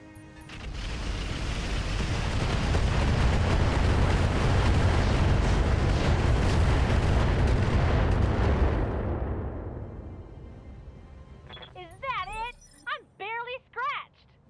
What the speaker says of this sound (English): we're going to fire on the missile artillery tank here